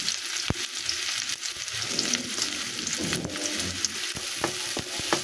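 Chopped onions sizzle steadily in mustard oil tempered with cumin and nigella seeds, a continuous close hiss broken by a few sharp spatula scrapes and pops, with no voices.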